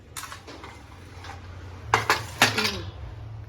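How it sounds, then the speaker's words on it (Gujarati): Dishes, pots and pans clink in a home kitchen where washing-up is waiting, with a few sharp clatters near the middle and end over a low background hum. "વાસણ ધોવાના પડ્યા છે"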